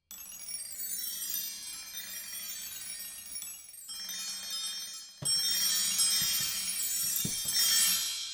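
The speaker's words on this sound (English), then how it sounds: "Bell tree." Bell tree from the VSL Synchron Percussion III sample library, a bright shimmering cascade of small bells that rings and decays, then a second louder glissando sweeps in with a soft low thump beneath.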